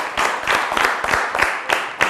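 Studio audience applause at an Italian TV quiz show, steady broadband clapping with periodic surges, moderately loud and close, no voices over it.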